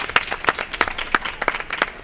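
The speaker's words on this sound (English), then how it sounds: "Let's get a round of applause for Kyle" A small audience claps for a contestant at a LEGO building competition, a brief sparse round of distinct claps heard close up.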